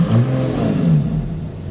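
A Lotus Exige 430 Cup race car engine starting, with a loud, close rumble that swells into a brief revving rise and then settles into a steady idle, with no talk.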